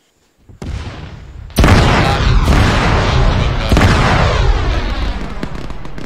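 In Arma 3, an explosive charge detonates beside temple walls. A smaller thump comes first, then a loud, close blast rolls into a long rumbling tail with a few crackling secondary booms.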